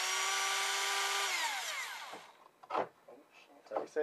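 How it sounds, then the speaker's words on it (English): Small electric drill on a 12-volt supply whines loudly, then spins down with a falling pitch over about a second, followed by quiet and a few short bursts of talk. "Just going to try and mangle this little drill up."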